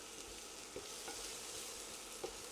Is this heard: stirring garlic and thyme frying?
yes